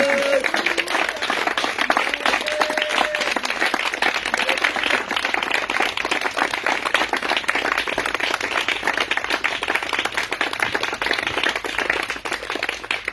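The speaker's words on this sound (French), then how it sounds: "Acclame fortement le Seigneur." A congregation at a village morning prayer service claps and acclaims the Lord, a dense, sustained burst of applause filling the space at steady loudness throughout.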